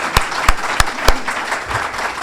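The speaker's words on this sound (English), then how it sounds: "Let's give them another big round of applause." A club meeting audience gives theater camp kids a round of applause, a loud, close burst of clapping with several sharp nearby hand claps standing out over the steady crowd wash.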